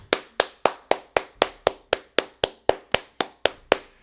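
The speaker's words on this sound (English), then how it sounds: "Everybody clap it up." A single pair of hands claps fifteen times in a steady, even rhythm, each clap crisp, close and alone with no talking.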